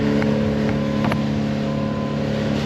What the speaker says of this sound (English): now that we got a proper forklift situation going on